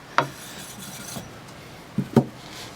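An axe edge is drawn across an 800 grit sharpening stone, giving a few brief, close scraping rasps separated by quiet pauses, with no talk.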